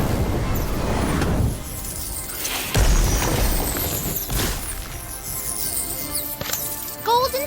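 Fiery spell blasts in Harry Potter Magic Awakened, a few heavy whooshing booms spaced out over several seconds with crackling debris and bright magical chimes near the end.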